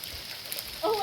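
Hail falling during a storm in California, a steady patter of ice on outdoor surfaces like wood chips and a car, with a brief sharper sound near the end.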